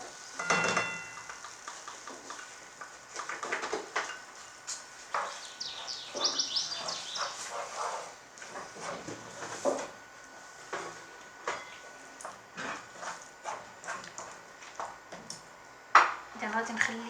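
Mushroom and crème fraîche cream sauce simmers in a pan, a soft steady sizzle with scattered clinks of utensils against the pan and brief stirring noises, fairly quiet and close, with a voice talking over parts of it.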